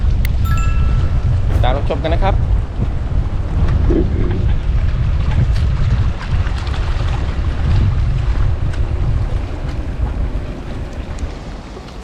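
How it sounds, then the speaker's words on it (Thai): Strong wind blows at the sea during a fishing trip for sea bass, buffeting the microphone with a loud, continuous low rumble that gradually eases toward the end, while someone talks briefly near the start. "ลมแรงครับ ตกยากอยู่ครับ"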